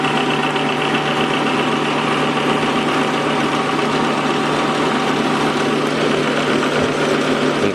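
A metal lathe takes light cuts on a Willys transfer case intermediate gear with coolant oil applied, giving a steady, loud, unbroken mechanical drone with a faint constant whine and no breaks.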